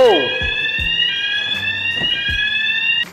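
A workout timer alarm beeps in a steady high electronic tone for about three seconds, with faint low thuds and a voice underneath.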